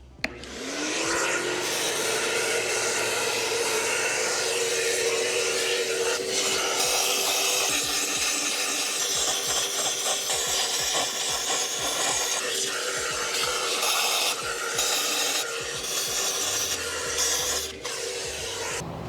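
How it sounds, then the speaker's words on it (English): A vacuum runs continuously at close range, its steady whine mixed with scraping and rubbing as the nozzle cleans out the metal ports of a BMW N47 diesel engine during a coolant leak and valve cover gasket repair. "we'll do one more vacuum on this"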